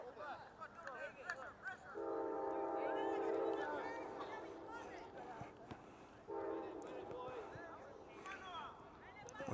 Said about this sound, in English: There's that just after 5 train coming through.